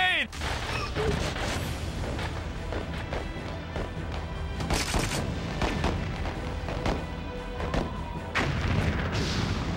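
A grenade explodes in the video game TimeSplitters: Future Perfect, a loud booming blast at the start followed by a dense, continuous stretch of gunfire and impact noise.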